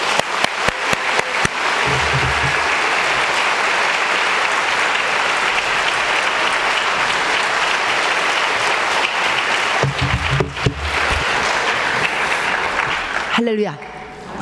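Loud, sustained applause from a church prayer-meeting congregation welcoming a speaker, a dense roar of clapping that holds for about ten seconds, briefly swells again, then fades as a voice begins.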